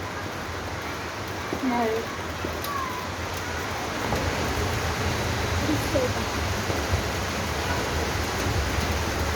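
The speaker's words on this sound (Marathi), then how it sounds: "आवाज येतो ना पावसाचा." Heavy rain pours onto a road in a dense, steady hiss that lasts throughout. A voice briefly speaks near the start.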